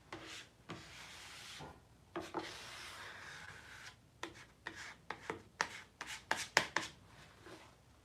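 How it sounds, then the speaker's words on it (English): Cloth rubbing Rubio Monocoat oil finish into an epoxy and wood side table, a soft steady scrubbing in close, quiet strokes that turn into quicker, sharper swipes toward the end, with no talking. "We'll pretty much rub the excess out of the surface there, because it'll only absorb as much as it can."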